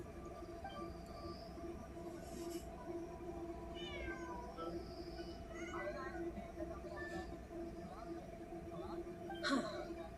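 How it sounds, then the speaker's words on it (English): A cat in a video game gives a few faint, scattered meows over a steady low background hum. "Just a cat."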